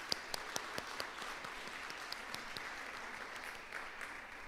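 Steady applause from an audience at an evening exhibit opening talk, a dense continuous patter of many hands with a few sharper claps standing out, moderately loud throughout.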